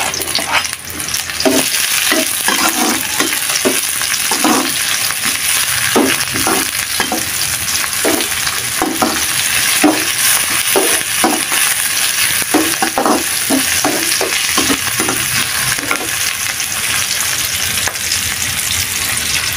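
Green and red chilies stir-fried with beef tendon in a hot pan, a steady loud sizzle broken by repeated scraping stirs of the spatula, no voices.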